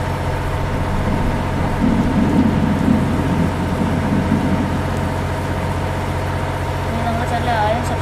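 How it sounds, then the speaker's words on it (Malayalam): Heavy rain and rumbling thunder in a bus simulator game set in India or Indonesia, a loud, constant downpour with low rolls throughout, and someone talking over it. "മഴയൊക്കെ ഇടിവിട്ട് മഴയാണ്"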